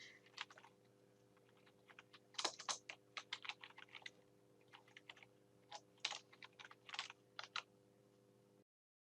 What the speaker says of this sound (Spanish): acá ya podemos empezar a escribir